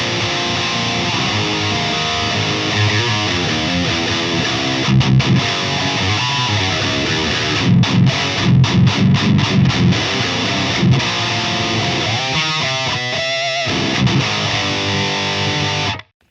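Heavily distorted metal guitar played through a Jensen C12K2 speaker, with chugging palm-muted riffs, short stop-start gaps and a fast picked run near the end, loud and continuous without any talk.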